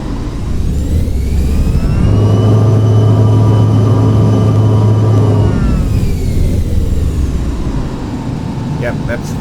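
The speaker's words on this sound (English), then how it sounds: "let's say if I were gonna throttle it up." A simulated aircraft engine heard from inside a flight simulator cabin rises steadily as the throttle is pushed up, a loud continuous drone with climbing tonal whine that holds, then eases back toward the end.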